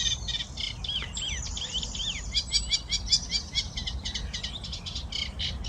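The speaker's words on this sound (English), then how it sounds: "Beautiful morning, the birds are singing" Several birds sing and chirp over a small lake on a calm morning, their overlapping calls bright and fairly near, with a steady low outdoor rumble underneath and no voices.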